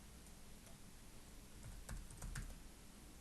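Keys clack on a computer keyboard as a short word is typed, a quick cluster of light, close taps, very faint beneath a low steady room hiss.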